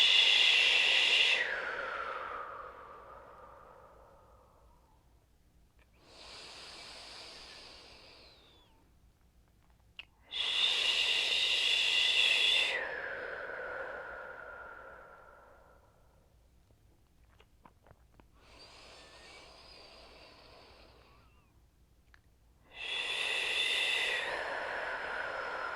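A person breathes slowly in a calm yoga session, making long hushing shh exhales alternating with softer inhales, four or five drawn-out breaths, close and quiet with pauses between them.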